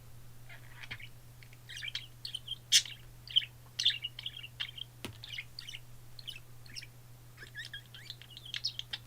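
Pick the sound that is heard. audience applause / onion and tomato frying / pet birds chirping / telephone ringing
pet birds chirping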